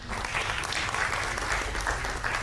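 An audience claps steadily at a Punjabi film festival poster release, a dense continuous patter of applause with no break and no voices heard.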